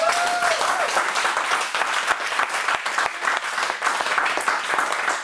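A church congregation applauds loudly and steadily during a worship service, dense clapping filling the whole stretch with brief vocal cries mixed in.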